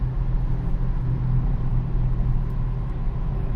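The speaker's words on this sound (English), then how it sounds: "Sounds good to downshift." A car fitted with a Barton shifter rumbles through a downshift, giving a steady low engine drone with a slight swell, close and continuous for a few seconds.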